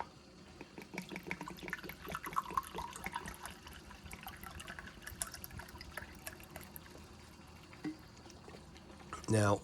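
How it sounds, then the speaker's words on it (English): Water poured out of an opened army canteen, about 250 ml, trickles and splashes unevenly over several seconds, ending in a brief louder knock or gush. "Pour out our 250 mils."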